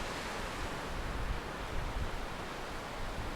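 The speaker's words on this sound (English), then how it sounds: "As you can tell with the wind, you can hear it." Strong wind buffets an exposed hillside in stormy winter conditions, a loud, continuous broadband roar with gusty low-end thumps against the microphone and no talking.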